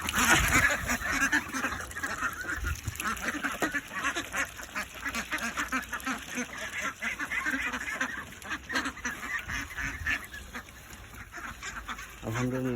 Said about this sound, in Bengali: এই হলো আমাদের হাঁস।